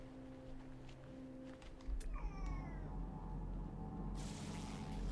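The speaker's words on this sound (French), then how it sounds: "le chat rouspète quand je fais une vidéo" A house cat meows in complaint, a single drawn-out wavering cry mid-clip, fairly close, over a quiet background hum and low game sounds.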